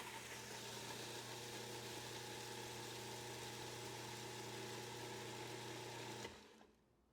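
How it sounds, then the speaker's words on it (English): A food processor chopping hemp seeds whirs steadily at a loud, even pitch for several seconds, then abruptly winds down and stops. "we're going to put this into our food processor, put the lid on there. It's going to get loud"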